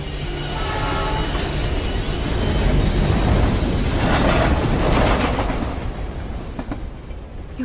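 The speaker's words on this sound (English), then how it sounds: "What's that noise? The train." A train in the video game Life Is Strange approaches as a loud, sustained rumble and roar that swells in the middle, with broad rushing noise and a few sharp clatters near the end.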